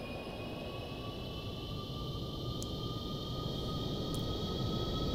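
Boeing 747-400 jet engines in the Aerofly 2 flight simulator video game throttle up, a steady, dense roar with a high whine that builds slightly in loudness, with no talking.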